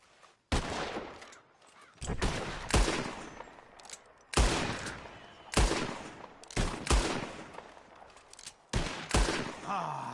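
Several loud gunshots fired at birds flying overhead ring out in separate bursts across the span, some doubled in quick succession, each trailing off with a short echo.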